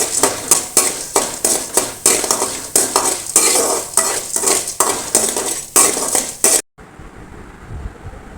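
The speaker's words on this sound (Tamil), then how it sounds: "கடலப்பருப்பையும் உளுத்தம்பருப்பையும் பொன்னிறமாக வறுத்து எடுத்துக்கணும்" Chana dal and urad dal dry-roasting in a pan, heard as loud, steady rhythmic scraping and stirring with a light sizzle, a spoon clattering against the metal pan, before stopping abruptly near the end.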